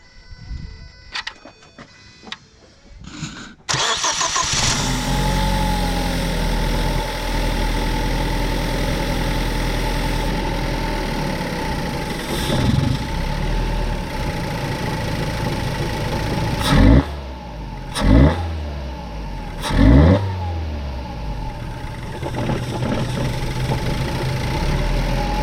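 A 2014 Ford Focus with bad idle and throttle problems cranks and starts, then settles into a steady idle before three sharp revs rise and fall near the end, loud and close.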